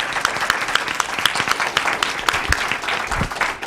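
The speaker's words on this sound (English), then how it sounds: "But let's give our panelists a round of applause." An audience claps for the panelists at a pollinator protection forum, a steady round of applause with individual sharp claps standing out, close and fairly loud, with no talking over it.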